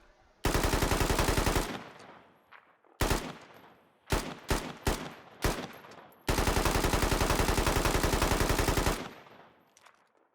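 RPK-74 machine gun with a 1P78 optic firing in the Squad video game: a long loud automatic burst, several short bursts and single shots, then another sustained burst, loud and close with brief echoing tails, no talk.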